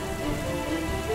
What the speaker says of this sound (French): cette pluie mortelle brûle la peau et les chairs